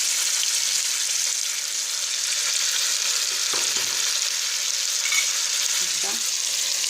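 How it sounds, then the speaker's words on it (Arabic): Onions fry in oil in a pan, giving off a steady, dense sizzle with occasional stirring, close and continuous, with no one speaking. "نخليها تتقلى مع البولي تاعي"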